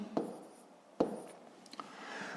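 Hand-written numbers for a long-division exercise, chalk or pen tapping and scraping on a board in two short strokes separated by a pause, quiet and close with no talking.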